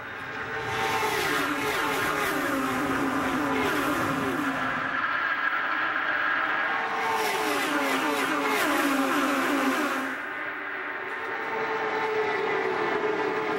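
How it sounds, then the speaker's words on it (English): IndyCar race cars from the 2010 Kansas City race accelerating on a green-flag restart with push to pass, engines rising in pitch as two waves of cars scream past, loud and close with no talk. "We're back to green flag racing, and all 5 of the top 5 cars are hitting that push to pass."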